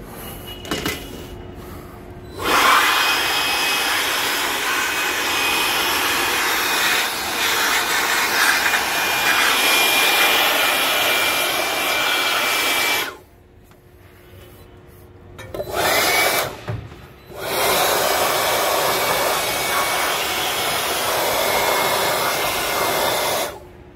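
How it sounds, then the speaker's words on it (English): A battery-powered blower cleaning dust off a motor during commercial preventive maintenance, a loud steady whooshing rush that runs for about ten seconds, cuts out briefly, sputters, then resumes strongly, with clunks between runs. "And we're gonna take the blower to this motor."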